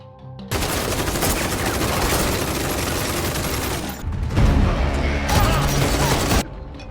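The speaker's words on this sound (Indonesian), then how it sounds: "Tembakan pun pecah" Sustained, dense gunfire fills the scene, loud and continuous with heavy low booms, briefly dipping before another intense burst, then cutting off.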